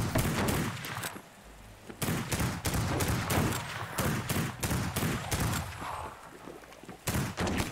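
Rapid volleys of gunfire rattle in the video game Lovecraft's Untold Stories, with repeated sharp bursts coming in quick succession for several seconds, loud and dense, as enemies shoot at the player in a coastal township level.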